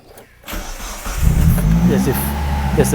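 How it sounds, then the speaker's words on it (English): A 1995 Mitsubishi Libero, fitted with a new distributor and a fresh battery, cranks briefly and catches, then settles into a loud, close, steady idle. "let's start the vehicle up and see how the vehicle sound"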